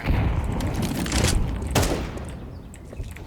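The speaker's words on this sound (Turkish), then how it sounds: "Buraya bomba attım." A thrown grenade bursts with gunfire in the Counter-Strike 2 community map Basalt: a dense series of close, loud shots and blasts with one sharp boom in the middle, then quieter scattered pops.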